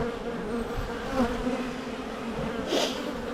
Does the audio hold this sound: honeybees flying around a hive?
yes